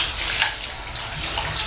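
Warm water runs and splashes over a cat during a bath, a continuous broadband gush with no talking.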